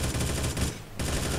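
Rapid automatic gunfire in the video game Combat Squad, a steady fast stream of shots that breaks off briefly before resuming, loud and close, with no speech.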